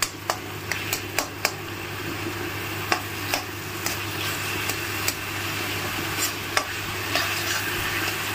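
Vegetables shallow frying in a pan, a steady close sizzle with repeated sharp clicks and scrapes of a utensil stirring against the pan.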